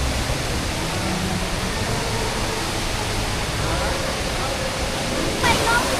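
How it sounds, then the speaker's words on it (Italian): A steady, broad rushing roar of a waterfall inside a Singapore airport fills the space, constant and enveloping with no clear breaks. "Siamo scesi ai piedi di questa cascata assurda"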